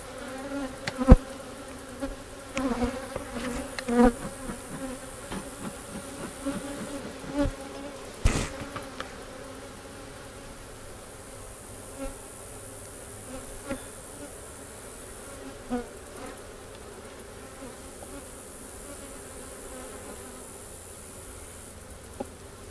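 Honeybees swarm around an open hive in a steady, close buzz that fills the air, with a few sharp knocks and thumps of hive work early on and no voices.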